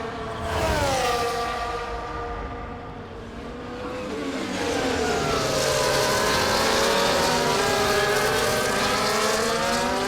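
Racing cars in an EA Sports F1 game at Interlagos, Brazil, their engines roaring loudly and steadily, pitch sweeping down then climbing again as cars pass close by, with no talk over them.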